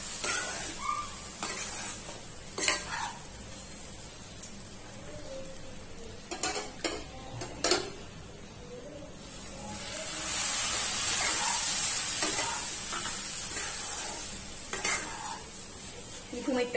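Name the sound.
stirring upma in a hot pan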